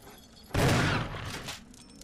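Gunfire aimed at dogs in the video game Resident Evil, a sudden loud burst of several rapid shots that rings out for about half a second before fading back to quiet.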